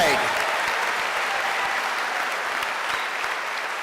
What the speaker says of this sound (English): So let's give it a real round of applause.